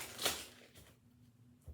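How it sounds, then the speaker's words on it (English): A deck of tarot cards is shuffled once in a quick, crisp riffle near the start, followed by faint handling and a soft tap at the end in a quiet room. "I'm going to shuffle them, though, because we might need them again."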